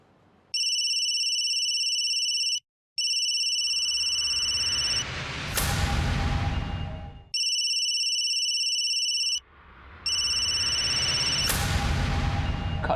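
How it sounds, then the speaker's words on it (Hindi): An outgoing video call rings in two bursts, each a bright repeating electronic tone pattern ending in a sharp crash-like burst followed by decaying noise, loud and alone with no speech. "वीडियो कॉल करो, करो फास्ट।"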